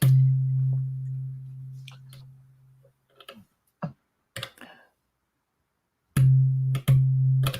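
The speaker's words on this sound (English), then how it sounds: "what you're hearing there is just a sine wave" A Digitone FM synthesizer plays a steady, pure sine-wave tone that fades out, then returns abruptly after a quiet gap filled with scattered button clicks.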